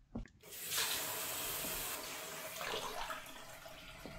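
A tap runs into a pot in the horror cooking game Horror Noodles, a steady hissing stream of water that starts after a short knock and continues alone at moderate level.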